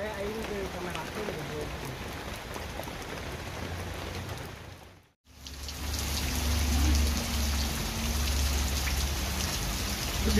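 Heavy rain pouring down outdoors during a fishing trip for small river fish, a dense steady hiss that drops out briefly mid-way then returns louder, with voices faintly underneath.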